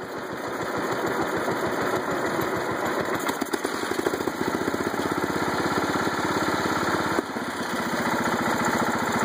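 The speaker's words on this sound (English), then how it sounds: "That's a pretty slow idle right there." A John Deere 216 lawn tractor engine idles slowly and smoothly, a steady near, loud low-pitched chugging throbbing evenly throughout with no voices.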